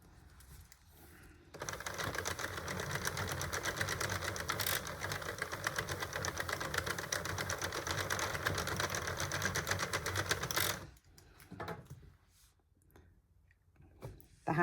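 A Sentro 48 pin knitting machine being cranked with wool, a loud continuous rapid clattering of needles and gears for about nine seconds before stopping, followed by quieter handling sounds.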